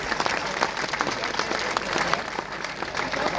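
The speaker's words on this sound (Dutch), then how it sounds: "Dus geef ze even een applaus." Audience applause at an outdoor senior Pride gathering, a dense, sustained clapping from a crowd that holds steady throughout.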